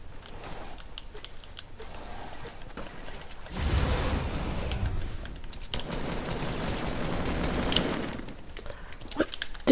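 Dense rapid gunfire rattles in a video game, with the heaviest sustained bursts in the middle stretch and lighter shots around them.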